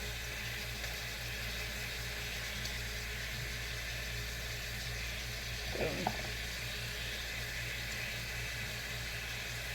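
Onions frying in olive oil in a pan to caramelize, a dense, even sizzle that runs steadily throughout, fairly close, with one brief stir-like bump near the end and no talking.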